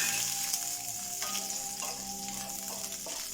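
Urad dal and chana dal frying with mustard seeds in hot oil, a continuous bright sizzle with faint crackles and occasional light stirring taps, close and steady throughout.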